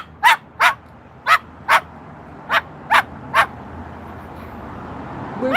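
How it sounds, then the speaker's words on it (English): A dog barks seven times in sharp, close bursts, first in quick pairs and then a short run of three, before falling quiet against faint background noise. "It's a lot of barking."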